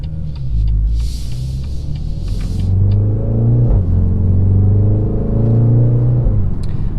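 A 302 hp BMW X2 M35i engine rumbles steadily while driving, its pitch climbing and falling as it revs through gears, with faint hiss and clicks in the cabin.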